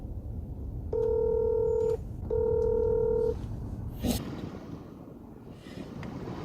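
Two long phone dialing tones, each lasting about a second, sound clearly over steady wind noise as a call is placed, followed by a brief rustle and quieter background.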